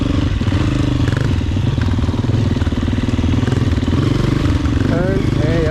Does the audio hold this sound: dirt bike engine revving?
yes